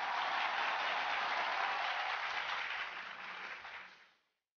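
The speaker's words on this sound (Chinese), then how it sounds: "我们掌声有请。" A studio audience at a televised Peking opera programme applauds in a dense, even wash of clapping that holds steady, then tapers and fades out completely.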